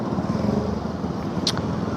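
A scooter's engine drones steadily on the road, with constant low motor noise and wind rush and no change in pace.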